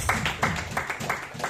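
A church congregation claps together in a steady rhythmic beat during worship, close and even, with faint voices underneath.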